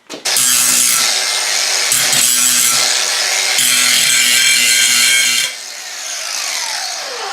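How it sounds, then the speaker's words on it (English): A power grinder bites into cast iron in a loud, sustained harsh whine that shifts pitch as pressure changes, then drops to a softer spin-down tail. "I'm gonna grind it"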